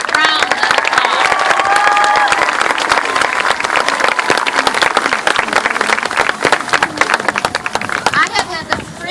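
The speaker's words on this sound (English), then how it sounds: "Give yourselves all a round of applause." A large school crowd at an elementary school celebration applauds and cheers continuously, loud and sustained, with whoops and voices carried in the roar.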